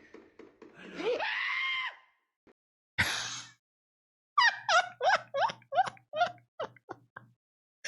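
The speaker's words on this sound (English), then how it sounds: "The way he screamed." A person's scream rises over about a second, loud and close, followed by a sharp burst and then a run of short, excited yelps or laughs from a frightened reactor.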